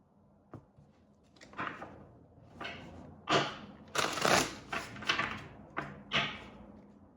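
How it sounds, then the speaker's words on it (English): Tarot deck being cut and shuffled by hand: a series of close, soft riffling and slapping bursts of cards at an uneven pace, quiet room, no talking. "Hold on, I gotta cut the deck."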